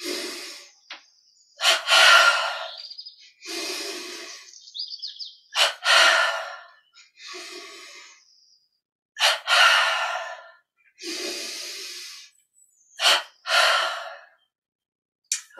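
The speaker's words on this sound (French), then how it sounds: "Double respiration avec les paumes ensemble." Double breathing exercise done with palms pressed together in a Yogoda practice, with sharp paired inhales and exhales, close and distinct, separated by short silences in a steady series.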